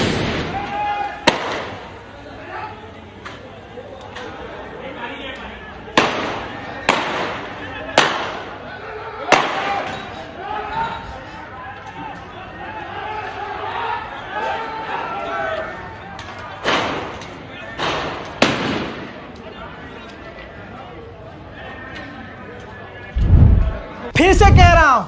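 Police gunfire in a narrow street: a series of sharp, irregularly spaced bangs and cracks, some loud and close, with a steady murmur of voices and crowd noise running underneath.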